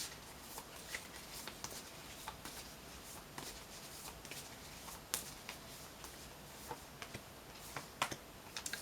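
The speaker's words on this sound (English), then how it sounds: "So I'm just going to lay these down on top of the cards we've already pulled." Tarot cards being laid down one by one onto cards already on the table, giving soft, quiet taps and light papery slaps spread through a faint background, with a few sharper clicks near the end.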